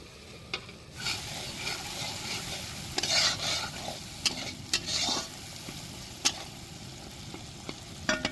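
Chopped tomato, chili powder and turmeric fry in oil for a catfish curry, a soft continuous sizzle broken by sharp clacks of a spoon scraping and stirring the pan, close and without speech.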